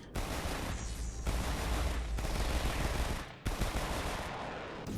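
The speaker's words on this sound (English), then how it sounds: "get all the enemies shooting at you" Continuous enemy gunfire in the VR shooter Webshooters VR, dense rapid bursts of shots filling the whole stretch with a brief break near the middle, loud and close, with no talk over it.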